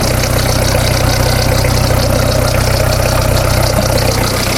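An old Peugeot 1.9 UXD diesel engine idles close by, a loud, steady, rough rumble with an even knocking pulse throughout.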